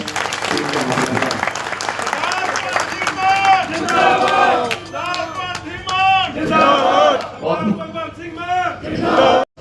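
A crowd at a Punjab political rally claps while voices shout and chant over it, loud and close, with the clapping mixed beneath raised cries.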